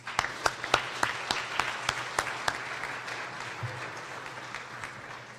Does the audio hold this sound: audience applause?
yes